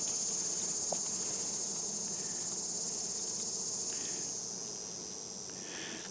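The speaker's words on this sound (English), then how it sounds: "There's a big population of bees here." Insect buzzing from a busy honey bee hive with a large colony, a steady dense hum with a high whine, close and continuous, softening slightly toward the end.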